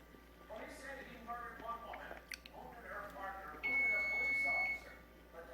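A device gives a steady high electronic beep lasting about a second, with people talking quietly around it.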